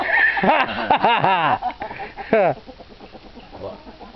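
Roosters crow in loud, drawn-out calls close by, followed by softer clucking and scattered clucks from fowl.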